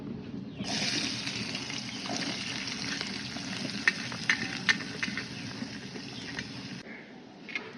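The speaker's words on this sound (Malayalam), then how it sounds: "ചിക്കൻ പൊരിച്ച എണ്ണയിൽ തന്നെ നമുക്ക് സവോള വാട്ടാം കേട്ടോ." Onions fry in oil left over from frying chicken, giving a steady close sizzle with scattered crackles and pops, heard alone.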